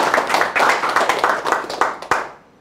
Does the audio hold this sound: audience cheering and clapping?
yes